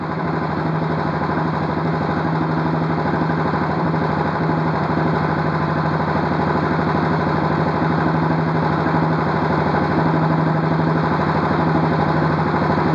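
A Royal Enfield Classic 500 single-cylinder engine held at steady raised revs, a constant close thumping drone with a rapid regular pulse and no change in pitch throughout.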